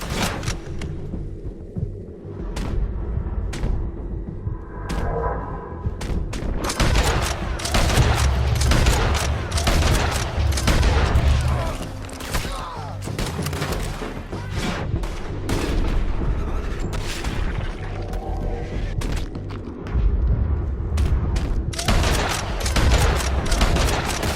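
Rapid bursts of gunfire crack out in a Red Dead Redemption 2 shootout, dense overlapping shots and volleys that rise after a quieter opening and keep rattling loudly, with brief calls mixed in.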